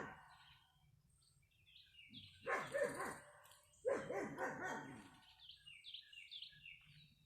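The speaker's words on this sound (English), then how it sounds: "He's barking at my husky." A dog barks at a husky nearby in two loud, ragged bursts a second or so apart, and fainter yelps follow. Birds chirp lightly in the background, and nobody speaks.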